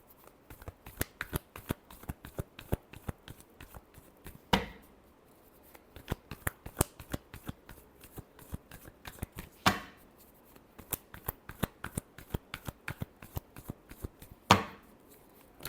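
Tarot cards are shuffled by hand in repeated quick riffling bursts, each run of sharp ticks ending in a louder bridging snap about every five seconds, close and quiet, with no voices.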